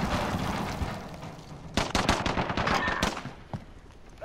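Pistol shots in Call of Duty: Modern Warfare, a rapid burst of sharp, loud cracks fired one after another in quick rhythm over a low background hum of game sound.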